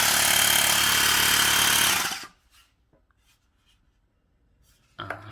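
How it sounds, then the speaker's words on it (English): A Mi portable electric air compressor pumps air with a loud, steady, broadband mechanical whir for about two seconds, then cuts off abruptly into near silence, followed by a brief click and a short burst of noise at the end. "It is pumping air."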